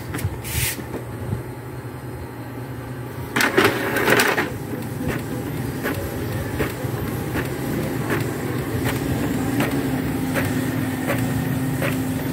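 An Epson L3110 printer, just repaired after an error code 034004 fault, runs a photocopy job: a low mechanical drone with a burst of louder feed noise early on, followed by regular soft clicks and ticks as the paper moves through.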